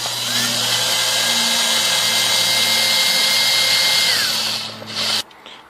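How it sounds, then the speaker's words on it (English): An electric drill with a small bit whines loudly and steadily for about five seconds while drilling a pilot hole, its pitch shifting slightly, then cuts off abruptly. "Then get your drill with the small drill bit"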